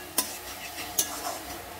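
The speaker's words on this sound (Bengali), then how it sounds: "ওর মধ্যে আমি অল্প একটু চিনি দিয়ে নেড়ে চেড়ে নামিয়ে দেবো" A finished dish in a pan, with a little sugar added, is stirred with a utensil: two sharp metallic clinks against the pan over a faint background sizzle, close and short, with no speech.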